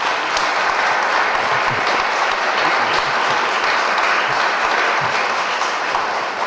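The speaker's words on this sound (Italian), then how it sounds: "un applauso mi sembra" Audience at an Italian literary festival talk applauds steadily, a dense wash of many hands clapping at even loudness throughout, with no voices on top.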